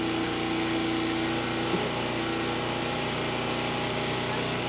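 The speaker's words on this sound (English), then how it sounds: "Take the drill and that screw and put it into that board right there" A steady whirring motor drones throughout, with a higher tonal whine early that cuts off partway, as a power drill drives a screw into a board nearby.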